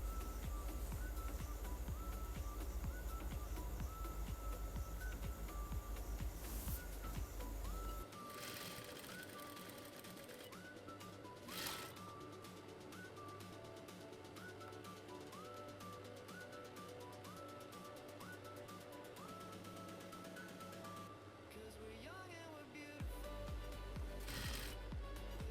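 A sewing machine stitches gathered fabric for an asymmetrical dress, its fast, even motor hum and needle clatter running continuously and close, pausing briefly near the end before resuming, with no talk.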